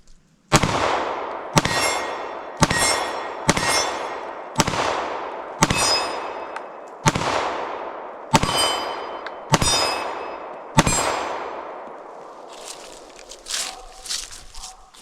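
Gunshots strike a steel target at an off-grid cabin in Vermont, giving about ten loud, sharp metallic rings spaced roughly a second apart, each decaying briefly before the next, then fading into quieter rustling.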